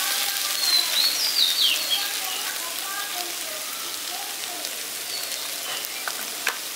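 Jackfruit muitha mixture with garam masala frying and being stirred in a pan, a steady soft sizzle throughout with faint scraping, and a few bird chirps in the background.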